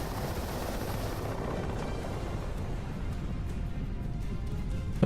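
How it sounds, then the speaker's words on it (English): A jet's afterburner roars in the DCS World flight game, a continuous loud, broadband rumbling roar that holds steady throughout without pause. "Why is it feel like I've got an afterburner right in my ears?"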